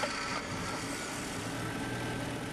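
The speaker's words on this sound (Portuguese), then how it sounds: "Dê partida no motor" A Fiat Tempra HLX 16V engine idles with a steady, low hum that stays even and continuous, heard close by with no voices over it.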